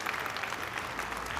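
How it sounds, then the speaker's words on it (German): Audience applause at a live stage event at a fantasy convention following a presentation, a dense steady wash of clapping from a crowd, brief and even. "Nochmals einen Applaus zum Abschluss,"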